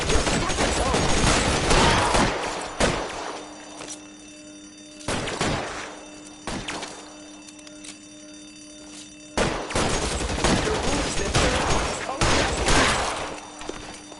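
Gunfire in the detective video game LA Noire comes in loud bursts of rapid shots with quieter gaps between volleys, and a voice speaks during the pauses.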